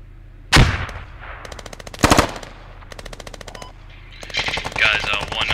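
Automatic gunfire in the Squad military shooter game, several bursts of rapid rattling shots with sharp single cracks between them, fairly close and loud, with players talking over the combat.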